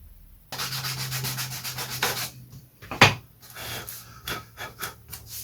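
A repaired RC glider part is rubbed back and forth on a flat sanding block in steady, rhythmic close strokes, with a sharp knock partway through.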